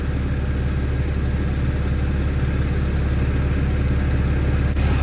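A Bad Boy 5045 tractor engine runs at a steady, loud idle close by, a constant low rumble throughout with no voices.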